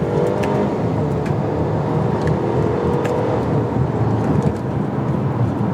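Mercedes-Benz GLA 250 accelerating hard on an open road, a steady loud rush of engine, tire and wind noise heard from inside the cabin.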